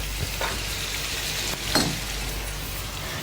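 Onion fries in oil in a pan as the base for a sauce, giving a steady close sizzling hiss broken by a couple of brief stirring clicks, with no talking.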